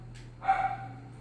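Dogs bark a few times at a distance, a short yip then a louder cluster of barks, fairly faint behind a steady low hum.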